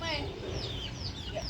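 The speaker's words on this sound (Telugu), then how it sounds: "ఇది కూడా పుంజులు అన్నమాట." Roosters cluck in a village yard, a close, busy run of short calls with chatter and other outdoor noise mixed in; faint voices may be present.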